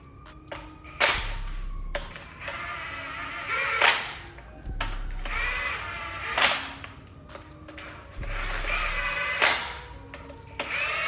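An impact wrench spins flywheel bolts into a 12-valve Cummins engine. It fires in several short, loud bursts separated by pauses, close up.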